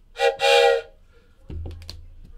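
Two short, bright blasts of a train whistle sound effect, the second longer, ring out close and clear, followed by quieter clicks and handling noises.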